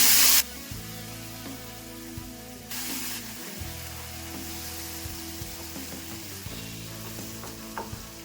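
Ground chutney poured into a sizzling tempering of mustard seeds, urad dal and asafoetida in hot oil: a loud initial hiss burst, then steady crackling sizzle with stirring scrapes, close and continuous with no talking.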